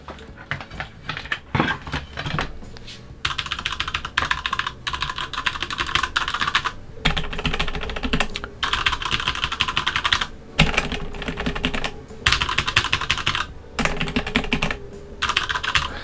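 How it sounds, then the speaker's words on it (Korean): Steady, fast typing on a mechanical keyboard with red switches, a dense run of soft clacks broken by brief pauses, close and clear, no voices. "적축을 실제로 한번 제가 사용하고 있는 적축을 한번 쳐보면은"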